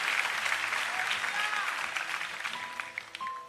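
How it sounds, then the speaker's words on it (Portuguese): A church congregation at a night vigil gives a round of applause to Jesus, steady moderate clapping with voices and brief tones mixed underneath. "Os que podem dar a Jesus uma linda salva de palmas"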